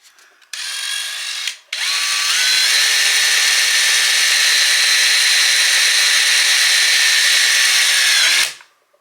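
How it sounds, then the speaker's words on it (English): A power drill fitted with a long extended bit bores close and loud under a sink while an electric outlet is installed, a brief burst followed by a steady, sustained whine with a slight pitch shift before it cuts off. "I have these real long extended drill bits, but I didn't think I would need them"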